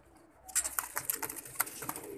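Pigeons in a pigeon-flying (kabootar bazi) loft in Pakistan, including a large ringed pigeon, give soft repeated calls with fluttering and rustling, close by and without talk.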